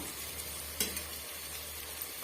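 Onions sauté in a pan as the base for a mushroom gravy: a steady, close sizzle and crackle of frying, with a brief stir or scrape near the start and no voices.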